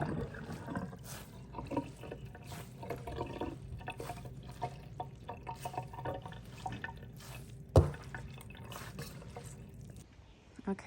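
Water drains and drips from a soaked knitted shawl, quiet and intermittent, with a soft trickle and scattered drips and one sharper splash near the end.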